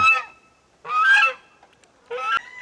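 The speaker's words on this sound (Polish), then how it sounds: "a gąski się kąpią" Geese honk loudly in three separate bursts while bathing in water on a farm, close by with short quiet gaps between calls and no voices.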